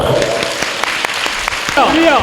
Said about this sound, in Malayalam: കൈയടിച്ച് കർത്താവിന് മാത്രം കൊടുക്കുക